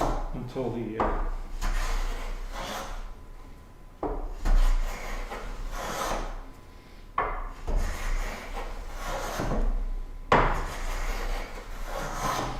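A hand plane is pushed across the end grain of a board on a woodworking bench, giving repeated rasping, scraping strokes with short pauses between passes while someone talks over the work.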